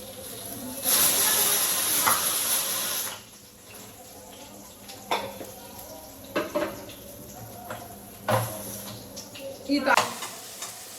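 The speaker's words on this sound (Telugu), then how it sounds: "ఇప్పుడు దీంట్లోకి తాలింపు దినుసులు." Tempering spices and curry leaves hit hot oil with a loud burst of sizzling that settles, followed by scattered stirring clacks and softer frying, close up.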